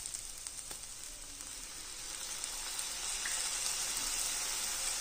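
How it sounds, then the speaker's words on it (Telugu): Paneer pieces coated with pepper and chilli powder fry in a pan with a steady, dense sizzle that grows slightly louder partway through, broken by a few faint stirring clicks, with no talking. "మిరియాల పొడి, కారం వేసిన తర్వాత ఈ ముక్కల్ని కొంచెం ఒక 2 నిమిషాలు వేగనివ్వాలండి"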